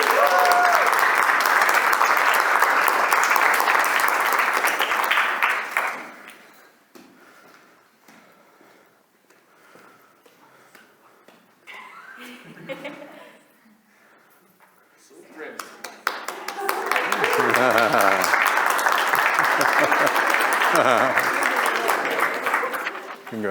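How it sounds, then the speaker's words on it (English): Graduation ceremony audience applause: loud, dense clapping for about six seconds, then a quieter stretch with scattered sounds, then a second full round of clapping that swells and holds until the end, with some voices under it. "one more quick applause for our first class"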